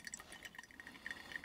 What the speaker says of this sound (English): I'm just going to pour out all 300 grams of water